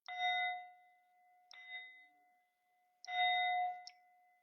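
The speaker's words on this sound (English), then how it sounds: "And let's go ahead and call the bell one more time." A meditation bell rung during tai chi practice, three clear metallic strikes with long ringing decays, the second softer, plus a faint extra tap near the end, in a quiet room.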